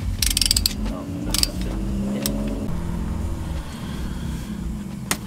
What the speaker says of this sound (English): we're gonna go ahead and torque these two caliper bolts